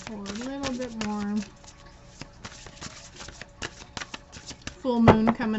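Crisp riffling and flicking of cards being shuffled, with a person talking intermittently over the shuffling.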